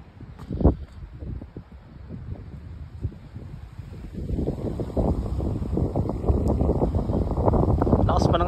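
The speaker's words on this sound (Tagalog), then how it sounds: "Lakas pa ng hangin." Strong wind buffets the microphone on the road via Daang Malico between Manila and Isabela, Philippines, building from gusty rumbles into a sustained roar, with a voice speaking briefly near the start.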